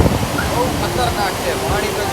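Steady rushing water roars loudly and continuously as a dam overflows in the rain, with voices talking over the torrent.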